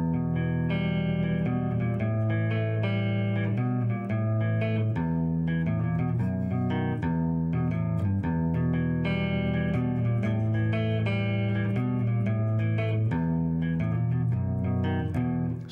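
Intricate electric guitar part from a song, with busy melodic runs and bass-like lines between chords, carrying through a continuous, dense band mix with effects and reverb.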